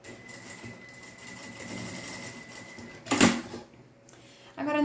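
Sewing machine stitching a fabric bag strap, a steady mechanical whir that runs low and continuous with a louder burst partway through, close up and with no talking.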